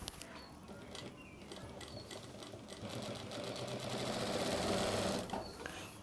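Industrial sewing machine stitching a foot seam runs in a steady fast mechanical whir and patter close by, swelling slightly louder toward the end before easing off.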